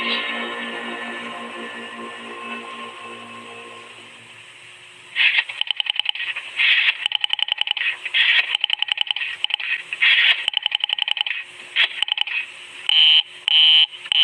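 A telephone line in a vintage radio drama gives a steady humming tone that slowly fades, then switches to loud, rapid, evenly repeating busy-signal beeps, with no talking over them.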